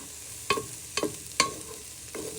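Onions, garlic and rosemary are stirred around a pan for a butternut squash soup, with four distinct scraping strokes of a utensil against the pan over a low sizzle.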